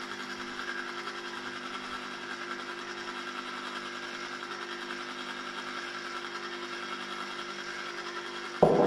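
An ice cream maker churns, giving a steady low motor hum with a faint mechanical rhythm that runs unchanged throughout, ending in a brief louder bump.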